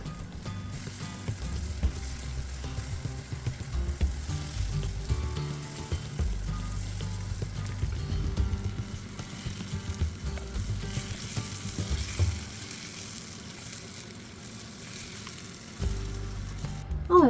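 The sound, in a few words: diced peppers frying and being stirred in a pan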